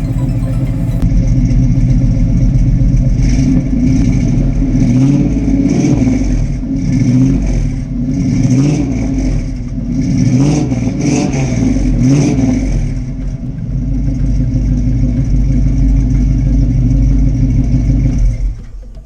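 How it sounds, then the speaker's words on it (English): A powerful V8 muscle car engine rumbles loudly up close, revving several times in throaty surges before settling back to a burbling idle. "Get a couple revs for you guys."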